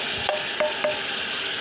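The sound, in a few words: onion frying in a pan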